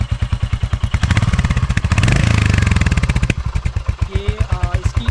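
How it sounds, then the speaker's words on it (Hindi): A 2025 Royal Enfield Hunter 350 idles up close with a rapid, even, bassy, crisp thumping exhaust beat, briefly swelling in the middle before settling back; faint background noises appear later. "ये इसकी आइडलिंग पे ये साउंड आती है, बेसी साउंड है, बहुत ही अच्छी है, क्रिस्प साउंड आती है।"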